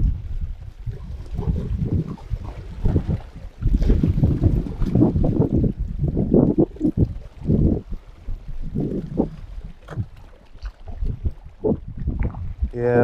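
A small boat rocks on the water near rocks, with heavy wind buffeting the microphone and a low, rumbling wash throughout.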